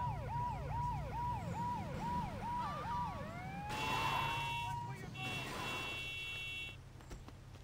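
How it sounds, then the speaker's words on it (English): Wailing ambulance siren in the Saints Row 2 video game, sweeping up and down in a steady repeating cycle, then shifting into a higher yelp tone, loud and continuous over game background noise. "Ambulance mission, let's go."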